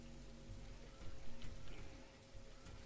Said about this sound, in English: We're getting bombarded by really large hail.